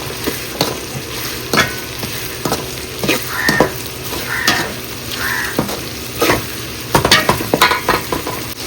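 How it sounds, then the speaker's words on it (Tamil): Tomatoes and onions sautéing with salt in a pan for pepper chicken gravy, a steady sizzle broken by repeated scraping strokes of a stirring spoon, close and fairly loud with no talking. "சால்ட்டை சேர்த்துட்டு கொஞ்சம் நேரம் அப்படியே வதக்கிட்டே இருங்க."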